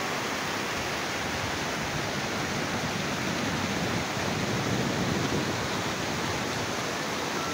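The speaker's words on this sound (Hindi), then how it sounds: "ये सारा बर्फ़ का पानी है आबशार का, साफ़ सुथरा नीट एंड क्लीन पानी है ये।" Snowmelt water pours down a waterfall near Lulusar Lake in Pakistan, a dense, steady roar of rushing water that fills the whole soundscape at close range with no voices.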